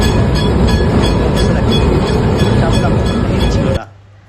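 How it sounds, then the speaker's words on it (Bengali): A tram running on its rails, a loud, steady rumble with a metallic rattle that fills the whole clip and then cuts off abruptly near the end. "ট্রাম চলে এলো ট্রামে উঠে পড়লাম"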